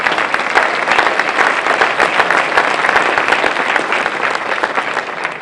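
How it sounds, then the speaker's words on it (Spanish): A church congregation claps together in sustained, dense applause offered to Christ during a worship song, loud and even throughout with no break, close and filling the room. "Ofrenda de aplauso para Cristo"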